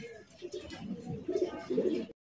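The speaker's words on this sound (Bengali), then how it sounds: "গ্রেটের কিং কবুতর পাইতেছেন, সাদা দবদবা একদম পুতুল মাশাআল্লাহ" A pair of white king pigeons cooing in short, throaty, rising bursts close up, two or three rolling calls in quick succession with little else around.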